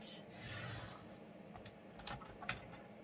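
Card being cut at a set measurement makes faint, close rasping strokes, a soft scrape followed by a few brief scratchy bursts in a quiet room.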